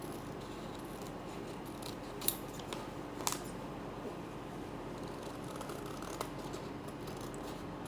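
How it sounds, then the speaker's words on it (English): Scissors cutting fabric for a small coin purse, heard as a few faint snips and clicks over a steady room hiss. "I'm trying to use the scissors while looking through a camera lens at the same time"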